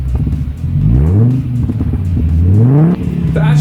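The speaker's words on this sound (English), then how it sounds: "Starting up, we're going to get some cold revs." A Skoda car engine cold-starts and is revved repeatedly, loud and close, with rising and falling tones as the throttle is blipped, ending in a higher rev.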